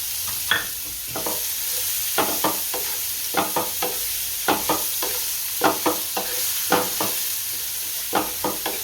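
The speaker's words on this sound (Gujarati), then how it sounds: "હવે કાંદો નાખશું" Onion frying in a pan after garlic for a Gujarati gathiya shaak: a steady close sizzle runs throughout, with repeated sharp clacks and scrapes of stirring at an irregular rhythm and no talking.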